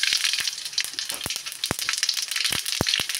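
Mustard seeds hit hot mustard oil in a kadai and sizzle: a steady, close hiss of frying with scattered sharp pops and crackles.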